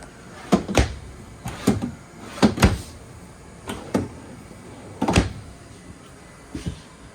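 Wooden drawers in a 2021 Forest River Salem Hemisphere 36FL fifth wheel camper slide open and bump shut several times in a row, close by, with short pauses between each thud.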